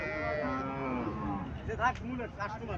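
A Haryana cow and her six-day-old bull calf moo in a long drawn-out call followed by shorter lowing, close and fairly loud, with faint voices in the background.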